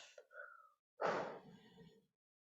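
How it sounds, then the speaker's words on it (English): A single forceful exhale during a yoga breathing exercise, blown out as if extinguishing a candle, preceded by a softer short breath; close and alone in quiet. "like when you blow a candle out."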